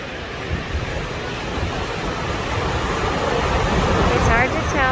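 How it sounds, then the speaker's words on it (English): Large ocean waves breaking on a rocky shore at Puerto Vallarta, a loud continuous roaring surf wash with some wind noise on the microphone, swelling toward the end. "Look at the size of these waves."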